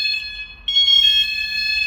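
Campervan security alarm sounding while being paired with its remote: a steady, loud electronic tone that shifts pitch partway through and keeps going without pause, with no one talking.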